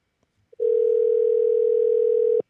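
A telephone call tone sounds as one steady, loud, unbroken electronic note lasting about two seconds after a faint click, then cuts off abruptly.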